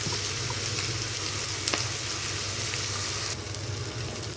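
Tomato and turmeric fry in a pan for a potato palya served with puri, giving a steady, close sizzle with a few light stirring taps and no voices.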